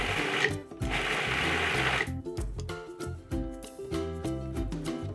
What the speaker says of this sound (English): We're gonna pulse this until it's a paste, but we still have some chunks in there